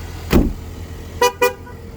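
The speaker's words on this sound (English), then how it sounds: "It honks at you, letting you know you've taken the keys out of the vehicle." Two short Ford Bronco horn honks in quick succession, fairly loud and close, warning that the keys were removed, following a brief thump, with a low engine rumble underneath.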